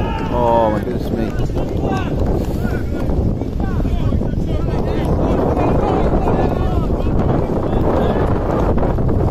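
Loud, steady wind buffets the microphone throughout at an outdoor amateur football match, a constant low roar with people talking and shouting underneath.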